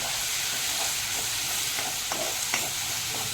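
Onion-garlic paste sizzles steadily in a hot pan for pav bhaji, with a dense, even hiss and a few soft stirring scrapes, close and continuous throughout.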